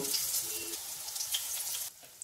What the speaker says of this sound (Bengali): কড়াইতে সর্ষের তেল গরম করে নেব তেল গরম হয়ে গেলে বানিয়ে রাখা বড়াগুলোকে তেলে ছেড়ে দেব